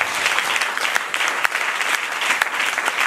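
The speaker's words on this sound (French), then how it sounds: "Est-ce qu'on peut acclamer le Seigneur?" Congregation applauding steadily in a church during a French-language Sunday service, a dense, continuous patter of clapping hands that fills the space without pause and with no talking over it.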